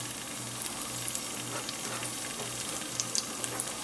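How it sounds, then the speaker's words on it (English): Shallots frying in heating oil at the bottom of a pan, a steady close sizzle with small crackles and a faint low hum underneath. "now we are going to put the shallots into the bottom of the pan"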